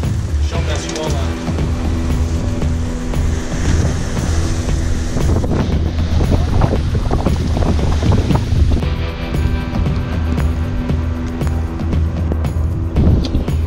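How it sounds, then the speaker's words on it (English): Squall-line wind blasts across a sailboat at sea, roaring loud and constant against the microphone, mixed with rushing water and rumbling gusts, while a voice talks faintly underneath. "Been hitting squall line about every 10 miles. Show them that squall line."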